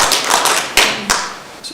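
Brief scattered clapping from an audience in a council chamber, a few sharp claps standing out before it quickly dies away.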